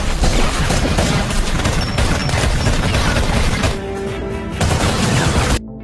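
An action-film gunfight crackles as dense, rapid volleys of shots and crashes that run almost without pause, dip briefly, then surge again before cutting off abruptly.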